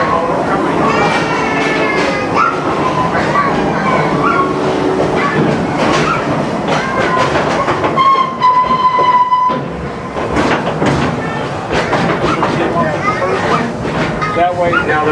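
Busch Gardens ride train rolling along its rails, a steady loud rumble with rhythmic clacking and squealing wheel tones, a bright whistle-like tone around the middle, with people talking over it.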